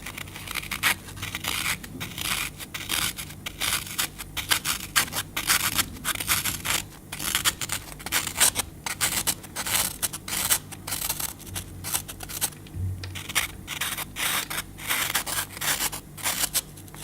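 A chisel-pointed tool scraping along the rough edge of a handmade mask beneath its eye, producing a continuous series of fast, close rasping strokes with short pauses.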